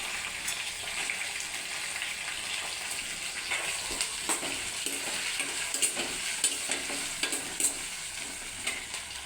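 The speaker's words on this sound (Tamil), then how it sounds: "இஞ்சி பொரிஞ்சோன்னா கறிவேப்பிலை, பச்சை மிளகாவும் போட வேண்டியதான்." Ginger, curry leaves and green chillies crackle in hot oil as a steady, fairly quiet sizzle, with scattered sharp pops and stirring clicks that grow more frequent toward the end, with no speech.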